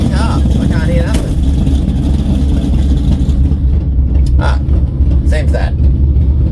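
A Chevy-powered drag racing car at a dragway test and tune idles with a loud, steady low engine rumble throughout, while a person talks over it nearby.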